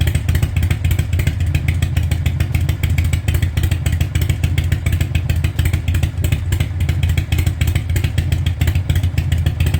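A Harley-Davidson FXR motorcycle engine runs with a loud, close, continuous throb, its rapid rhythmic pulses holding steady throughout.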